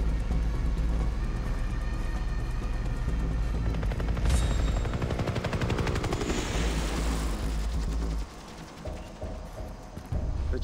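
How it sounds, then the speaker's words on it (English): Helicopter in the Far Cry 3 video game, a steady loud rotor drone with rapid machine-gun fire bursting over it midway before easing back to the whirring engine alone. "The chopper. That must be where he took the warriors."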